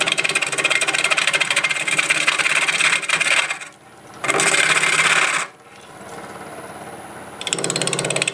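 A freshly sharpened half-inch swept-back bowl gouge scrapes and rasps into olive wood spinning on a lathe at about 1,000 RPM. Three loud cutting passes are split by quieter gaps where the lathe's motor hums alone.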